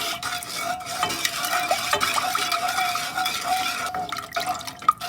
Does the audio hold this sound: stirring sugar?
yes